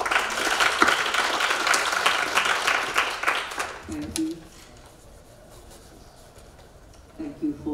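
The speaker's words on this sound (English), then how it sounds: "So a round of applause to this great panel." A conference audience applauds a blockchain panel, dense clapping for about four seconds that quickly dies away to near quiet before a voice begins speaking.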